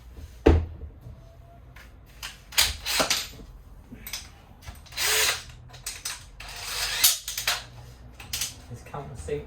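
A drill countersinks a screw hole in a wooden bunk bed inside a 1978 Avondale Heron caravan, giving short, uneven bursts of whirring and grinding with clicks and quiet gaps between them.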